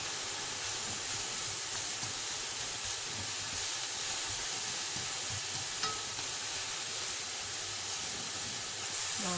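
Shrimp, pork and onions fry in a hot pan for Vietnamese banh xeo. A loud, steady sizzle and hiss runs unbroken throughout, close to the microphone, with no voices.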